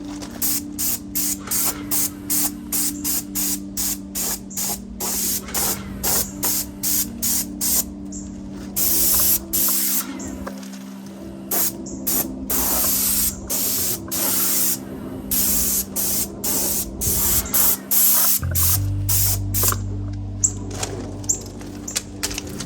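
A pressure washer sprays a wooden deck that is being prepped for stain, giving a steady loud hiss broken by rapid on-off bursts as the trigger is pulled and released, with a low pump hum underneath.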